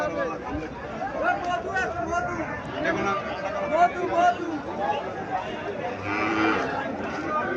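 Goats at a busy livestock market in Cumilla, bleating repeatedly amid a crowd's chatter and nearby people talking.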